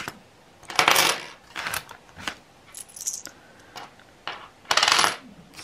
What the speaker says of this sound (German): ich wechsle mir hier das ganze Kleingeld jetzt einmal raus